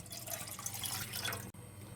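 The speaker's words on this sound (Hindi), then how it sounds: "तो सबसे पहले हम 2 कप पानी डालेंगे" Water pours steadily into a pan as the first step of brewing Kashmiri pink tea, a close, continuous trickling splash that stops briefly near the end.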